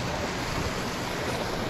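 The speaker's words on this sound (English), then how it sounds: "Excessive rushing water." Dense, steady rush of water fills the space in the submarine game Barotrauma, a loud, unbroken hiss and roar with no pauses or voices.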